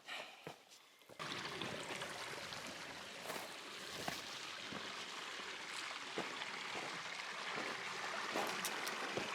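Sycamore Creek flowing along the Continental Divide Trail makes a soft, continuous rushing wash that begins after a brief quiet moment, with scattered small knocks and clicks over it and no talking.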